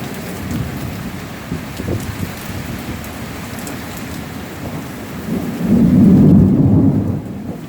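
Heavy rain pours down on a Sunday morning in Central Florida while low thunder rumbles, swelling into a stronger roll near the end.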